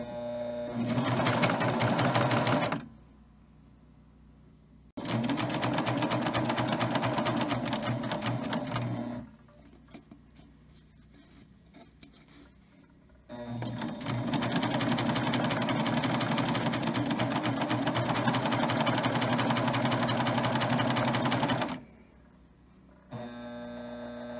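A Baby Lock serger runs a 2-thread wide belt loop in three sustained bursts of steady, loud mechanical whirring, separated by short pauses of low hum.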